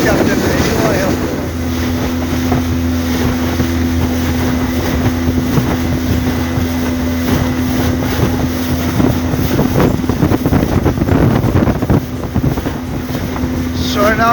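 Motorboat on a river near Orealla, Guyana, its outboard engine droning steadily and close throughout, with heavy wind buffeting the microphone and rushing water beneath.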